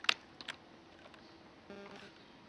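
Sparse key taps on a computer keyboard while entering text on an Xbox One, a few faint, quick clicks spread out over quiet room tone.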